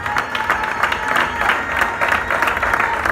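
A church congregation applauding loudly to acclaim the Lord, a dense, sustained wash of clapping from a large crowd with faint voices mixed in.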